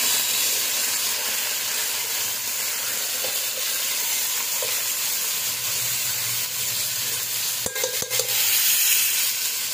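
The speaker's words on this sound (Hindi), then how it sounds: "इसे अच्छी तरह से भूनेंगे हम।" Meat stir-frying in a pan for white pulao, a continuous loud sizzle and hiss with occasional stirring scrapes and clatter near the end.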